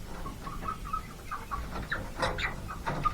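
A small grey hen clucks inside a henhouse, giving a run of short, close, soft clucks and murmurs with a louder, sharper cackle burst partway through, over a quiet background.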